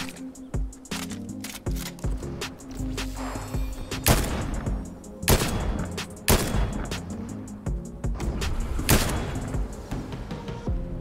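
Rapid gunfire in the video game Fortnite: dense repeated bursts of sharp shots with heavier booming impacts, loud and continuous over a cluttered game soundscape, with no talk.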